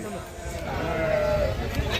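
Sheep bleat at a busy livestock market in Gudur, with one drawn-out bleat standing out over a crowd's murmur and nearby chatter.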